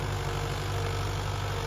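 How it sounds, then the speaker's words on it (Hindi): A Mahindra 595 Turbo tractor engine runs steadily under load while pulling a nine-tine tiller through a field, a constant loud low drone with no break. "पर भाई ट्रैक्टर खिंचाई देखो आप खिंचाई"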